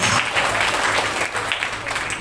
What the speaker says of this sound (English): So, clapping for club sites, the Masonas